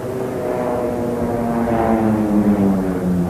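Propeller aerobatic display aircraft flying a mirror-formation loop at the Fairford airshow in 1987 produce a steady, loud droning engine roar with a slowly shifting pitch, heard alone.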